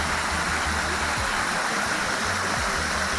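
Steady broadband rush of a large, powerful waterfall cascading down, continuous and fairly loud with no voices, with a low rumble underneath.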